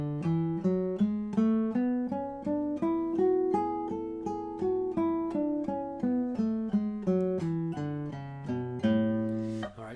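A legato scale played smoothly with both hands landing together, each note connected to the next in an even ascending and descending run, close and clean with no voices.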